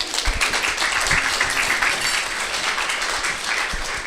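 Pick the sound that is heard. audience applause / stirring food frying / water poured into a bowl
audience applause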